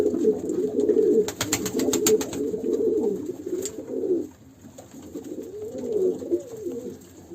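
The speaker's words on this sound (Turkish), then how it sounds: "Ee, şimdilik Kuşlarımızı da e, burada göstermiş olduk." Pigeons in a coop coo nearby in soft, rolling, repeated calls that overlap and pause. A few sharp clicks come near the start.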